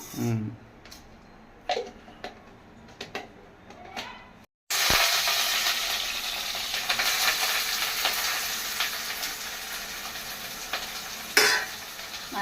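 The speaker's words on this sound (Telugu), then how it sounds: "స్పూన్ తాలింపు గింజలు వేసుకున్నాం" Tempering seeds for an amaranth leaf curry hit hot oil. After scattered light clicks of a spoon and pan, a sudden loud, continuous sizzle and crackle takes over and holds steady, with no voice.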